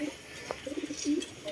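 Racing pigeons coo softly at feeding time, a few low, rounded coos close by over quiet background rustle.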